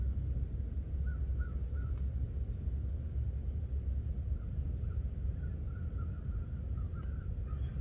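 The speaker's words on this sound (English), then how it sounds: "I was just listening to the birds." Crows caw in short repeated calls at an outdoor day camp on a calm hillside, fairly faint and distant, over a steady low rumble of open air, with no talking.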